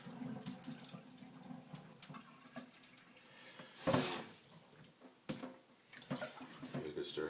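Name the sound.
pouring cloudy rinse water off brown rice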